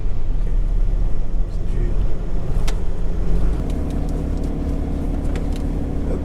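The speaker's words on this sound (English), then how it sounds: "This is an Iowa 80 truck stop." Vehicles idle and pass at the Iowa 80 truck stop, giving a loud, steady engine rumble with road noise and a few brief higher clanks on top.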